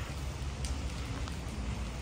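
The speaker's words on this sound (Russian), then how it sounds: "В Сочи дождина." Heavy rain falls in Sochi as a steady, dense hiss, soft and even throughout, with no voices.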